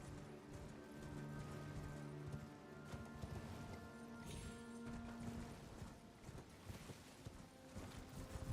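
A horse gallops in the video game Elden Ring with a quiet, rapid run of hoof clip-clops under game sounds and faint speech.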